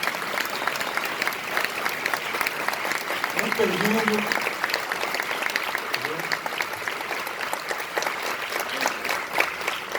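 Audience at a university lecture applauding a guest in a sustained, dense wash of clapping, with a voice briefly speaking over it.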